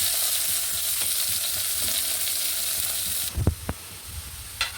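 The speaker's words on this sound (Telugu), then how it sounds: "కరివేపాకు వేస్తున్నాను ఉల్లిపాయలు వేస్తున్నాను" Curry leaves and onions fry in hot oil with a steady, close sizzle that drops off partway through, followed by a few sharp knocks and scrapes of a utensil in the pan.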